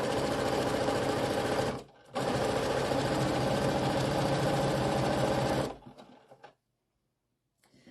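A sewing machine runs steadily stitching fabric strips for a striped pillow, a close, loud whirring with a brief pause near two seconds, then it stops and a faint rustle follows.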